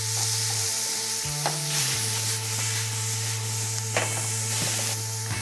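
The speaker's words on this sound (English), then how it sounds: "Give it a nice stir." Bacon, mushroom, onion, jalapeno and garlic sizzle steadily in a pan for a trout roll filling, with a constant loud hiss, occasional scraping stirs and a low electrical hum underneath.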